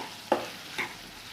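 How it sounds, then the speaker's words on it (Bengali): Mashed potato and lentil filling for samosas frying in a pan, a faint low sizzle broken by two quick stirring scrapes, quiet and close with no voices. "এবার এগুলোকে ভালো করে ভেজে নেব"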